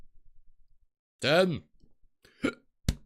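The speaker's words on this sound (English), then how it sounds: "I always get hiccups whenever I record." Three short hiccups from a person during a live stream: one longer voiced hiccup, then two quick sharp ones close to the mic, separated by brief silences.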